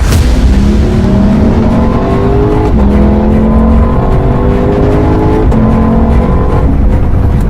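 A Lexus LC500 Coupe with the sport pack roars loudly and close, its engine revving up in three rising sweeps, each broken by a sharp gear change, with no talk over it.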